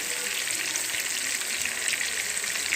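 Fish pieces fry in oil over medium heat with a continuous, even hiss of bright sizzle that holds steady from start to finish, close and undisturbed, with no voices.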